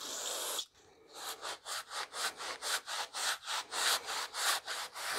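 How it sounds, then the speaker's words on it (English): Magic eraser wetted with brake cleaner scrubbing RTV sealant off an engine block, a close, quiet rasping rub in a steady back-and-forth rhythm of about a dozen strokes after a brief pause. "So you take your magic eraser. I like to put a little bit of brake cleaner on it."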